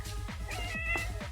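A cat meows indoors, several short, fairly quiet calls in a quick irregular series with no talking over them.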